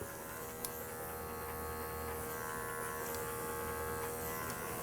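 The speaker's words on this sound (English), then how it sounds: "I'm just gonna kind of go in with the clipper and just skim the hair away from her butt" Electric clippers skim the hair around the rear of an Old English Sheepdog, giving a steady, moderately quiet motor hum and buzz that runs unbroken throughout, with no talking over it.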